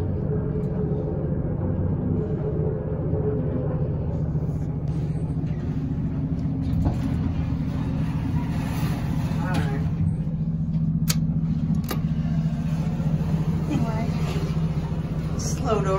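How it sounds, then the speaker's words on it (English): A Montgomery button elevator's motor runs in a mall, a steady low drone holding throughout, with faint voices and small clicks over it. "I want to listen to the motor going on"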